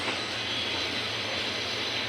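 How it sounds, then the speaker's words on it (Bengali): A crowded passenger train pulls out of Tongi railway junction, a steady broadband rumble and rush of a moving train heard from on board, even in loudness throughout. "টঙ্গী রেল স্টেশন জংশন ছেড়ে দিল গাড়ি"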